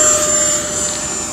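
A stock Havoc Xe electric model airplane flies nearby, its motor producing a loud, steady high-pitched whine with a thin tonal hum, constant across a brief pass.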